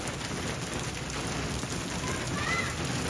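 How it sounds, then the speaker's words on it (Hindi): Hailstones pelt down in a storm in a steady, dense patter, loud and continuous, with some background activity beneath the noise. "अरे भाई कति ओले ओले बरसन लाग रहे"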